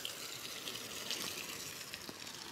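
Water pumped by a motor gushes onto a mustard field in a steady, soft rushing stream, faint and continuous with no voices.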